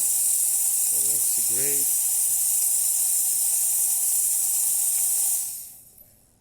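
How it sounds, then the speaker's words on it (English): Jura Impressa S9 Avantgarde coffee machine steam wand hissing loudly and steadily for about five seconds before cutting off, with someone briefly speaking over the hiss. "Steamer."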